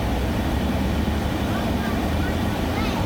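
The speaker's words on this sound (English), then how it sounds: "Bye-bye, helicopter." Steady broadband engine roar of a helicopter overhead as it flies away, a constant wash of rotor and wind noise with no clear change across the few seconds.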